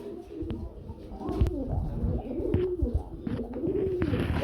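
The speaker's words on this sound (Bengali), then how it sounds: "এক জোড়া রাসগোল্লা কবুতর পেয়ে যাচ্ছেন" Several pigeons for sale coo nearby in soft, overlapping throaty calls, with occasional wing flutters and light background noise.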